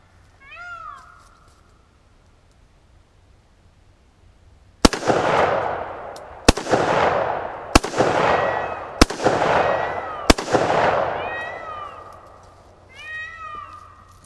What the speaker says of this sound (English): The fun part about shooting while the sun goes down is you can really see the sparks and debris flying around